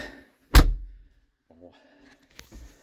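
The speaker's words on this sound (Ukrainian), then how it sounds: "Закриємо дверці." Cab door of a Lovol P4110 tractor swinging shut with a single sharp, loud thunk, followed by quieter rattles and small clicks, close by and without talking.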